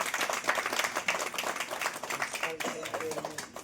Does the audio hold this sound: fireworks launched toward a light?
no